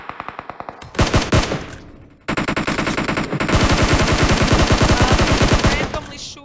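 Rapid automatic gunfire from PUBG Mobile, dense bursts of machine-gun shots that pause briefly, then resume as sustained loud firing with overlapping rounds.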